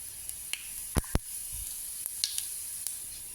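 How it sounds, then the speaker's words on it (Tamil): Mustard seeds and cumin frying in hot oil in a pan, a steady soft sizzle punctuated by sharp scattered pops and crackles as the seeds burst. "எண்ணெய் சூடானதும் கடுகு, சின்ன சீரகம்"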